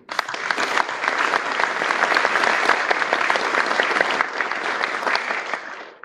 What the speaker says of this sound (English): So I want to give a round of applause to everybody here